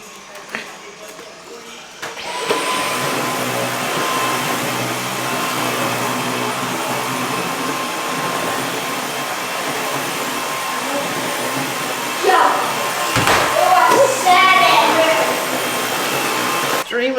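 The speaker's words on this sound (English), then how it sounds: "And let me vacuum this thing." Vacuum cleaner running over a long rug at home, starting after a brief quiet moment and then holding a loud, steady roar, with short scraping shifts and a few voice-like bursts late on as the head is pushed around.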